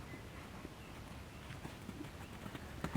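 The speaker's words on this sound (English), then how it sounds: "the strides are coming up quite long because the horse is not flowing and in the right canter" A horse cantering toward jumps in a riding arena produces faint, rhythmic hoofbeats that thud under a steady wash of background noise, without any speech.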